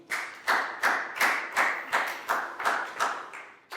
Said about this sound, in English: High five and big round of applause for Pak Boone.